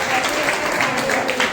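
An audience of women at an oath-taking ceremony claps together, a brisk steady patter of hands, with voices audible over the clapping.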